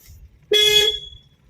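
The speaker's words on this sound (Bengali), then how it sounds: "আবার হর্ন দাও" A car horn gives one short, clear honk during a driving practice lesson on local roads, sounding close and alone over faint road rumble.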